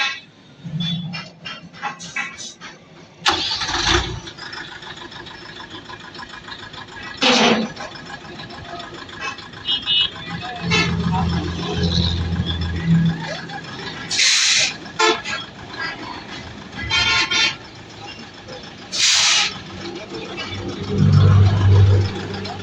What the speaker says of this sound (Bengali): স্টার্ট করেন গাড়িটা।